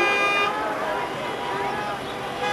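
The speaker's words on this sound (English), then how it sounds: "So everybody's beeping to get out because they've had enough." Car horns beep in slow, congested traffic leaving Thorpe Park. A steady honk sounds from inside a vehicle over road and cabin noise, with people talking.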